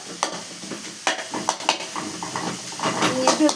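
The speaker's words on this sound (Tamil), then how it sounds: "வதக்கிக்கணும்." Food sautés in a hot pan with a steady sizzle and hiss, broken by the scrape and clatter of a spoon stirring at irregular intervals, close and fairly loud.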